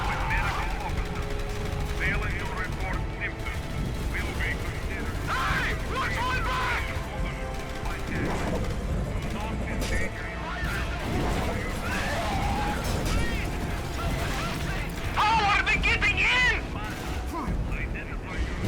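Gunfire in the video game Dark Sector is dense and continuous, with bursts of shots, blasts and crashes under a player talking.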